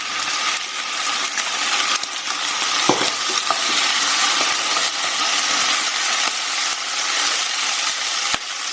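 Leftover marinade juices hiss and sizzle hard in a hot pan for a shrimp and broccoli stir-fry, a loud, continuous frying roar with a few sharp clinks and utensil scrapes.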